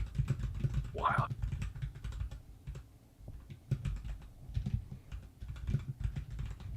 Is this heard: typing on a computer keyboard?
yes